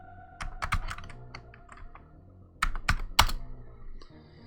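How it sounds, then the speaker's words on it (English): Keys clatter on an Amiga 600 computer keyboard in two quick bursts of close, sharp typing separated by a short pause, with no talking. "Let's try just typing this in."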